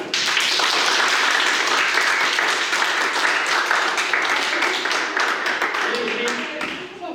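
An audience at an event in La Vall d'Uixó breaks into a round of applause, dense and steady at first, then thinning into scattered claps and fading at the close, with faint voices underneath.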